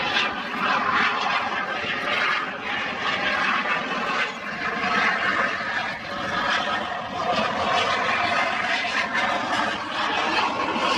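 A Saab JAS 39 Gripen fighter jet flies as slowly as possible in a display, its engine producing a continuous loud, rumbling roar that swells and eases slightly over several seconds, with no talk.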